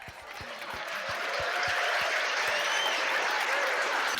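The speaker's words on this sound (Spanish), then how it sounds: "¿qué tal un aplauso para James Corbett?" Conference audience at the AZK event applauding James Corbett, a few scattered claps building into full, sustained crowd applause that stays loud to the end.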